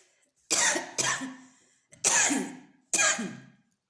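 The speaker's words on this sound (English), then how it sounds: "Making me cough." Four harsh, close coughs, in two quick pairs about a second apart, with silence between them.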